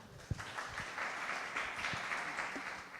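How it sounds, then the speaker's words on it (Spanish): Audience applause at an academic panel discussion on elections in Brazil and the Dominican Republic, a soft, distant, even patter of clapping heard at low level in a room, with a few faint voices. "Aplauso, por favor."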